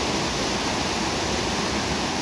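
Water pours and splashes steadily at Clear Creek Falls in French Gulch, a dense continuous roar of whitewater, loud and close, with no voices.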